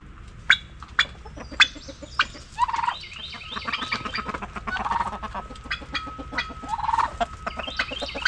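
Chickens and turkeys on a homestead at feeding time, with clucking, gobbling and a rooster crowing in a busy, close flock chorus that rises and falls without any talk.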